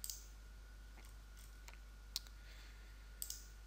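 Computer mouse clicks while an online store is set up in WordPress with WooCommerce: a few faint, sharp clicks spaced irregularly over a quiet hum, with no speech.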